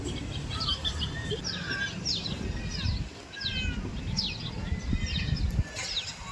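A black sparrow sits at its nest in a village tree, giving repeated faint high chirps and short calls over a steady low rumble of outdoor background noise.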